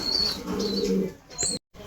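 Baby pigeons give a low, soft coo beside a cleaned clay nesting pot, with a brief flutter of wings and a high chirp near the end; no one speaks.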